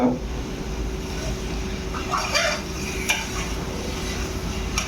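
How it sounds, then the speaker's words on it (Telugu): Mutton pieces are mixed with masala in a pot for a bachelor-style mutton biryani. There is a continuous low rumble and sizzle, with a few scraping and clinking utensil sounds close by. "బాగా మటన్ పీస్ని బాగా మిక్స్ చేస్తే పీస్కి మసాలా అంతా యాడ్ అవుతుంది"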